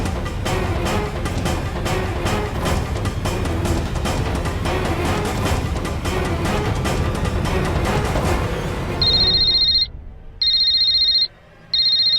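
Loud busy music fills the first nine seconds, then cuts out to a high electronic phone ring repeating in three bursts with short gaps.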